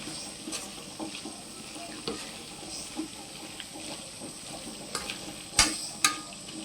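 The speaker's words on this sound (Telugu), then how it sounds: "కారం వేసాక ఒక్క హాఫ్ నిమిషం ఏగనివ్వాలి" Chicken frying in a pan with chili powder, a steady close sizzle broken by scraping stir strokes and a few sharper clinks near the end, with no talking.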